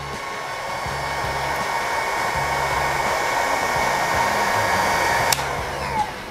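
A Ryu RHG4 heat gun runs at speed 1, a steady, even fan-and-air whoosh held constant throughout, close and alone, with a faint click near the end.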